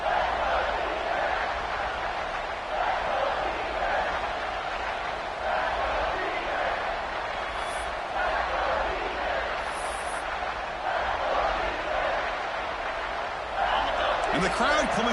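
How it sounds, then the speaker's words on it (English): Football stadium crowd at a college game between Colorado State and an opponent, a broad sustained roar rising during a red-zone defensive stand, with a commentator talking over it throughout. "the crowd coming to life here, trying to help this defense down in the red zone"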